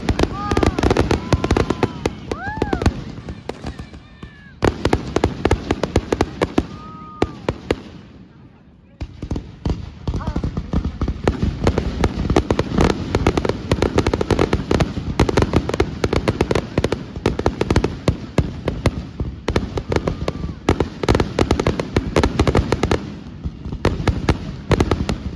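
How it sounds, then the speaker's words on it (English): Fireworks bang and crackle almost nonstop, loud and close, with dense overlapping bursts and a brief lull partway through; voices occasionally audible underneath. "Fireworks, there's so many."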